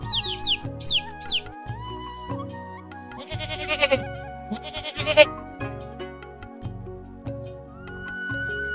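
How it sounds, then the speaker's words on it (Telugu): A cartoon goat bleats in a few wavering, high-pitched cries over a bouncy musical score with chimes and sound effects, loud and close. "ఒక మేక ఎదురైంది."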